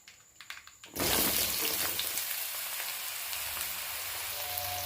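Bottle gourd pieces drop into hot tempering oil with a sudden loud sizzle about a second in, settling into a steady, close crackling fry that continues to the end.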